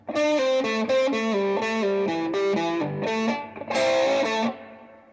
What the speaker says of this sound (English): I'm going to show you how to do a double stop bend.